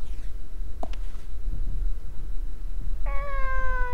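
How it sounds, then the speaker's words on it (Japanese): A single cat meows near the end in the ruined-building exploration game Fragile, rising clearly over a low, rumbling ambient background after a few seconds of near quiet. "この先から猫の鳴き声がするよ。"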